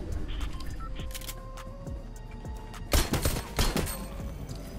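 Bursts of AK rifle gunfire in the video game Fortnite crack out amid a busy game soundscape, with scattered single shots early and a denser, louder volley in the final two seconds.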